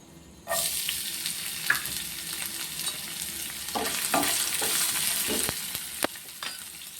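Sliced onion hitting hot oil in a pan for poha, a sudden sizzle that settles into a steady frying hiss with occasional stirring scrapes and clicks, close and fairly quiet.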